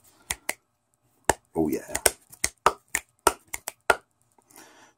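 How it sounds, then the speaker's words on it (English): Sharp finger snaps ring out close and dry, about a dozen irregular cracks spread over several seconds, with someone briefly speaking between them. "I'm snapping my fingers a lot."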